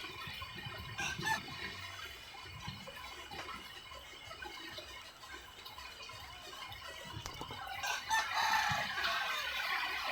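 Several roosters and young stags crow over one another, some near and some farther off, with scattered clucking and a soft background hiss.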